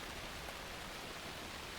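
Soft, steady rain in the video game Alan Wake II hisses evenly throughout, a continuous wash of falling water with no voices.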